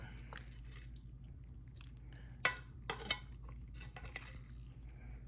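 Crispy beef meat is lifted out of hot beef tallow in grandma's pan, with faint, scattered metallic clinks and scrapes of a utensil against the pan over a quiet background hum.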